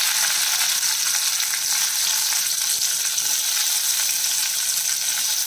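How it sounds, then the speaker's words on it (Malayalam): Okra (ladies finger) fries in hot oil, a loud, dense, steady sizzle and crackle heard up close without any talking. "നമ്മൾ എടുത്ത് വെച്ചിരിക്കുന്ന വെണ്ടയ്ക്ക അതിൽ ചെറുതായിട്ടൊന്ന് ഫ്രൈ ചെയ്തെടുക്കാം."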